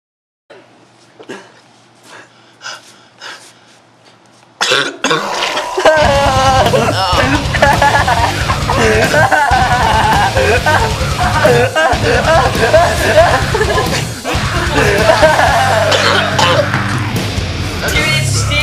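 A person coughs hard and repeatedly after swallowing milk, close and loud, in irregular fits broken by breaths, with voices talking around it.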